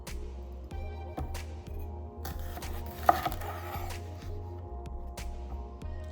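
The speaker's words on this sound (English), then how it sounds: "with the peeling still on it, we're gonna cut it in half" Knife cutting ripe, unpeeled plantains in half on a board, a series of sharp, evenly spaced chops close by, with a faint clatter of cookware in between.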